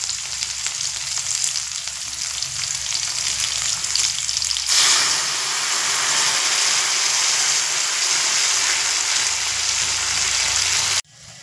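Pre-warmed milk, 400 grams, poured into a pan of fried vegetables for Bengali dudh shukto, setting off a loud, steady sizzle and bubbling that swells partway through and runs on without pause before cutting off at the end.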